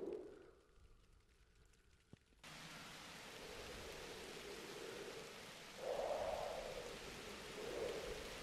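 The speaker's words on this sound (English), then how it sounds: "We are now gonna hit this with rain." Steady broadband hiss of heavy rain in The Universim god game, starting abruptly and washing over a village under attack and nearly ablaze, swelling slightly partway through with no voices.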